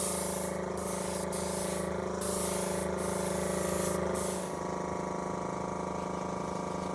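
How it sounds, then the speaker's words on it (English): A steady, loud mechanical hiss and hum from an air compressor runs continuously, with a slight drop in tone partway through. No voices. "Now I'm guessing this compressor's coming up pretty loud"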